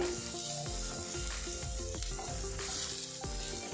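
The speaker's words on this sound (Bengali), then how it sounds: "এবারে এগুলো একটু নাড়াচাড়া করে নেব মশলার সাথে।" Turmeric, coriander powder and green peas sizzle loudly in a pan while being stirred, with repeated utensil scrapes and clinks cutting through the steady frying hiss.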